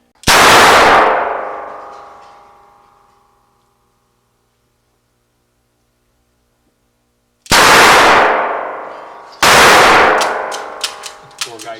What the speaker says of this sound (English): This gun is twice as powerful as the last one.